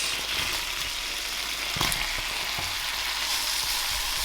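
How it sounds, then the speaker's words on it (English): Sliced leeks fry in a hot pan for a chicken and mushroom dinner, a continuous close sizzle with a few soft knocks of stirring. "And just fry those off for a few minutes, get them nice and tender."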